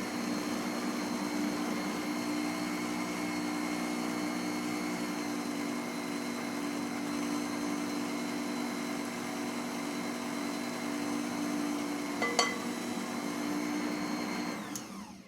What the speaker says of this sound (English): We're going to get this mixed until it's light and fluffy.